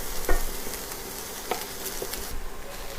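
Zucchini and sesame pork stir-frying in a hot pan give a continuous close sizzle, broken by a few sharp clinks and scrapes of a utensil stirring.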